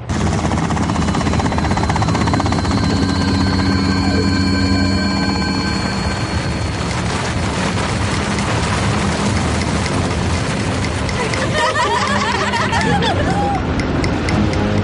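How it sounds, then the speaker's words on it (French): Cartoon helicopter in a snowy mountain scene, a steady loud rotor drone with engine whine running throughout, shifting to a rumbling avalanche-like roar near the end. "Les vibrations de l'hélico viennent de déclencher une avalanche."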